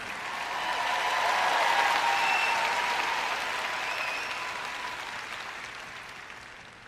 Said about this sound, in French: vous pouvez applaudir un peu plus fort que ça.